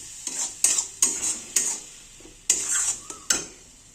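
A spatula scrapes and clanks against a pan while a spice paste is mixed into hot oil, with a series of sharp, close metallic strokes and a light sizzle between them.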